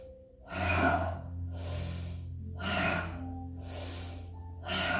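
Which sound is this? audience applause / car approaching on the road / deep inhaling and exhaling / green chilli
deep inhaling and exhaling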